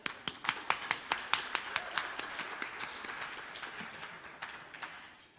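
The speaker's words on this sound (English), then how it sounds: "Now we can applaud." Audience applause at a Hollywood Chamber of Commerce state-of-the-state address, a crisp run of sharp claps near the start that thickens into steady, moderately distant applause from a room of listeners, with no voices over it.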